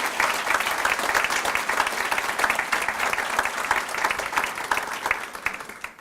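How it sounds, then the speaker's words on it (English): An awards ceremony audience claps for library honorees, a dense, sustained round of applause from a full room that holds steady and begins to thin out toward the end, with no voices on top. "Let's give them all a round of applause."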